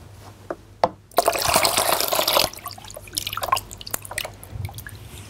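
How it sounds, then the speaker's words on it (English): Cold water pours into a foot bath basin in a loud splashing gush lasting about a second, framed by a few scattered drips and small clinks before and after. "let's add a little cold water"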